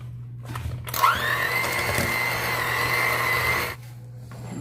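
Rocky road cookie dough being mixed with an electric mixer, a steady whirring motor hum running for nearly three seconds at close range before cutting off.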